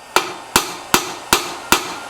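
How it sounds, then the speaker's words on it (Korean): Hammer blows on the bolt heads of a Yamaha YZF-R1 motorcycle wheel, cracking loose heated threadlocker before fitting OZ Racing forged aluminium wheels; five sharp metallic strikes land at an even rhythm, loud and close with no talking. "망치를 이용해서 요 볼트 머리 부분을"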